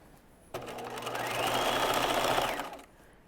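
A sewing machine runs in one steady burst, about two seconds long, while stitching the lower hem of cigarette trousers at five-eighths of an inch. The whir is close and clear, starting abruptly and tapering off.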